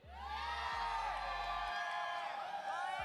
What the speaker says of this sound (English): Wanna hear some of the shout from the Filipino crowd?